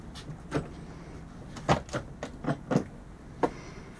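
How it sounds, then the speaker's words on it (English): Storage compartment doors on a 2000 Beaver Solitaire motorhome are opened one after another, giving a series of sharp latch clicks and thumps at uneven intervals, close and moderately loud, with no talking. "I'll open up all these doors so you can look inside of them here."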